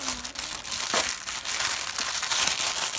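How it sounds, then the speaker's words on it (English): A plastic envelope package crinkles and crackles as it is handled, a close, continuous rustling with sharper crunches, no talking over it. "Crinkle, crinkle, crinkle."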